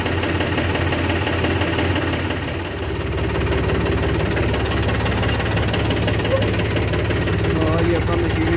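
A tractor engine idles and runs steadily throughout with a low, knocking rumble while a machine is pulled out on a Punjab farm after wheat sowing, with no clear voices.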